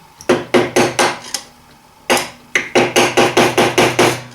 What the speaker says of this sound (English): I'm going to be hammering on this screwdriver from the bottom